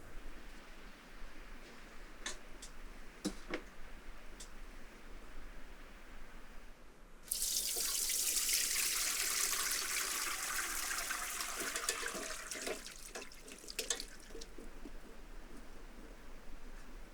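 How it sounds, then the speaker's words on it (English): Chopped watermelon pieces rinsed under running water through a sieve, a steady hissing stream of water starting partway in and continuing to the end, with faint birdsong in the background and no talk. "my wife has finished cutting the melon into small pieces and is rinsing them"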